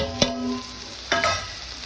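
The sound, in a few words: ground masala stirred and fried for mutton curry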